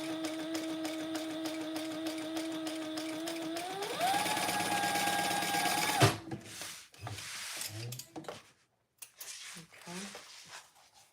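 A domestic sewing machine runs steadily while batch chain stitching, its whirring motor pitch rising partway through before stopping abruptly, after which soft handling noises and fabric rustles follow.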